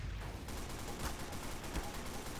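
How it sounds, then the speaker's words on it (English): Bursts of video game gunfire aimed at the player, a rattling fusillade of several rapid shots at moderate distance, fairly quiet and with no talking over it. "That was somebody shooting at us, actually."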